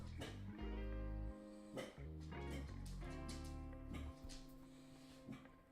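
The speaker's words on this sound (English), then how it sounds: "I get it's because they're dogs, but still. They bark at everything." Dogs in The Sims video game bark repeatedly in short bursts and yips over background music, moderately quiet.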